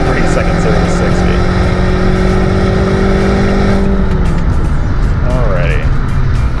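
A 2021 BMW 228i xDrive accelerating hard from a standstill toward 60 mph, loud engine drone rising in pitch through the gears with a shift partway through, heard from inside the cabin under a person talking.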